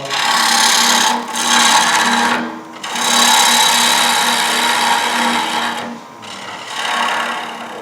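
Wood lathe with a gouge cutting the bottom of a turned bowl: loud, close, continuous rasping shear of the tool against spinning wood, broken by three brief dips as the gouge lifts between passes, no talking.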